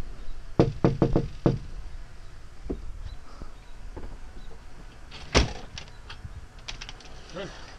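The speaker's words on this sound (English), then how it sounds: "Maybe we should knock on the door." Knuckles rap on the door of a beach house: a quick cluster of four or five close, loud knocks, a pause, then another sharp knock, with faint background sounds in between.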